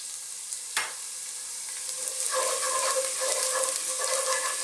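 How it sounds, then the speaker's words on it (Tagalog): Garlic sautéing in hot cooking oil in a cooking pot, a steady close sizzle that swells louder partway through, with a brief sharp clatter near the start and no talking. "Medyo papulayin natin yung garlic"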